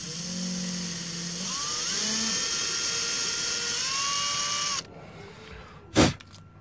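A drill with a 5/64-inch bit bores a pilot hole in the neck of a PRS Santana SE guitar for side dots. A steady high-pitched whine rises in pitch and runs for about five seconds, then stops, followed by one brief burst.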